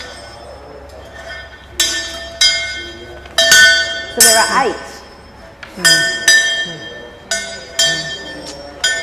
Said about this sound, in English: So people should absolutely kind of come in and ring the bells.